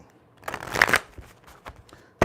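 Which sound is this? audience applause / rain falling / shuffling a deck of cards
shuffling a deck of cards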